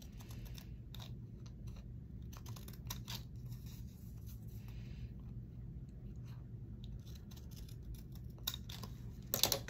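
Scissors trimming washi tape, a few faint close snips and crinkles over a low quiet room hum, with a slightly louder cluster of cuts at the end.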